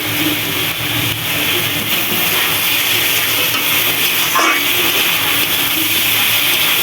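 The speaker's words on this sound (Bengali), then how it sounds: "এইভাবে আমি বেশ কিছুক্ষণ নেড়ে চেড়ে নেব" Spinach and liver sizzle steadily in a hot pan as they are stirred, a loud continuous frying hiss with occasional scrapes of the spoon, no voices.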